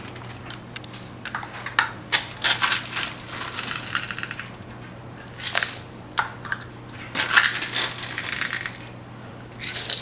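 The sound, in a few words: chocolate chips added to breakfast cookie dough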